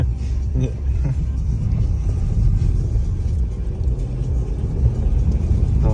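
A car engine rumbles steadily and close throughout, with a low, continuous drone that rises slightly as it gains speed on an empty road; faint voices sit beneath the motor noise.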